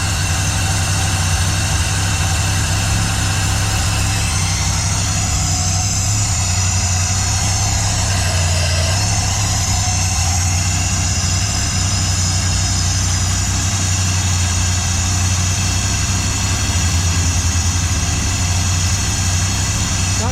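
Warmed-up engine with a new fuel pump idling low and steady, a continuous close rumble with a constant hum that holds unchanged throughout, no voices.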